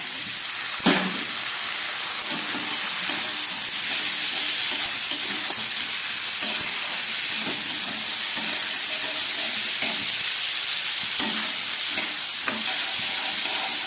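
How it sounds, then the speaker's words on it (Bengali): Soaked peas tipped into a hot pan of spices and tomato, producing a steady close sizzle with a few sharp clatters and stirring scrapes, no voices heard. "এইবার এই ভিজিয়ে রাখা মটরটাও আমি দিয়ে দিচ্ছি এর মধ্যে।"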